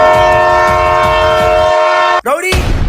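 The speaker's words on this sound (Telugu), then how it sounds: "ట్రైన్ చాలా దగ్గరికి వచ్చేస్తుంది" A train horn blares loud and close as the train approaches, holding a steady chord for about two seconds before cutting off with a sharp falling sweep, followed by rushing rail noise.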